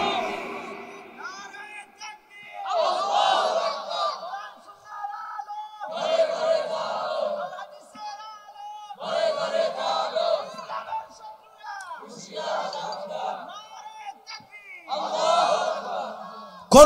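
Large crowd repeatedly chanting Allahu Akbar in unison, answering a takbir call at a religious gathering, with loud, rhythmic bursts of many voices separated by short pauses.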